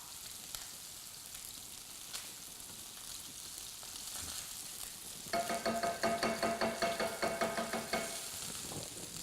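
Salmon sears in a hot pan with a steady broadband sizzle, which swells into louder, rhythmic crackling and spitting about halfway through before easing slightly near the end; no one speaks.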